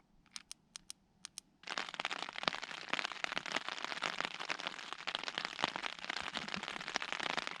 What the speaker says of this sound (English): It's been raining for a couple of hours now.